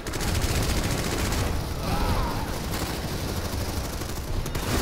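Dense, continuous automatic gunfire in the game Planetside 2, with overlapping rapid shots and explosions filling the whole stretch at a steady high level.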